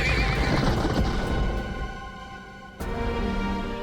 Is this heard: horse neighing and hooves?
yes